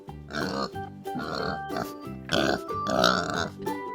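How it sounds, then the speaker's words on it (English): A pig grunting and oinking close by in four or five throaty, snuffling bursts separated by short pauses. "Here's a pig. Pigs love to splash and play in the mud."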